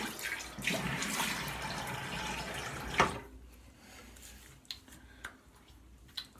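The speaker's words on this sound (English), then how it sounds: "let me rinse up here." Running tap water splashes into a sink as a RazoRock Hawk razor is rinsed, a close, steady gush for about three seconds, then the flow stops and a few faint drips and clinks follow.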